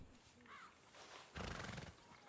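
A horse in the video game Red Dead Redemption snorts and gives a short whinny, followed by a burst of breathy rustling noise, close and brief against a quiet game background.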